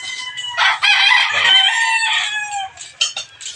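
Close, loud crowing from a rooster mixed with chickens clucking on a farm, several overlapping calls followed by shorter clucks near the end.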